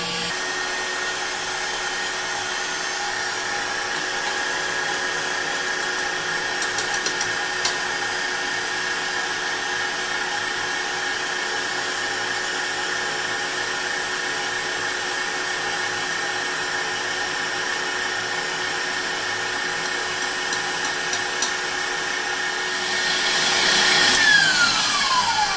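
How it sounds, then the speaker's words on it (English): An electric mixer whirs steadily at high speed, beating egg whites with sugar and cornstarch into a meringue, a continuous motor drone that rises in pitch near the end, with no talking. "one thing you do not want to do is overbeat your egg whites"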